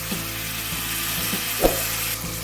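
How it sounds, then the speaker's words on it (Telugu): Grated raw mango frying in hot oil for mango rice, a steady soft sizzle broken by a few faint clicks of a spoon against the pan, close and even throughout. "ఇది కూడా కొద్దిగా ఫ్రై అయ్యేదాకా నూనెలో వేపుకుందాం."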